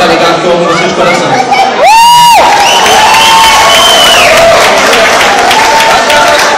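A live sambarock show audience applauds and cheers, dense clapping and shouts with a sharp whistle near the start, loud and sustained throughout.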